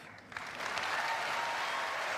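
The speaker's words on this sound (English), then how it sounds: "A lot of applauding in today. Oh, is that in here?" Live audience applause at the Eurovision Song Contest 1997 broadcast, a dense wash of many hands rising after a brief quieter start and holding steady, heard at a distance and fairly soft.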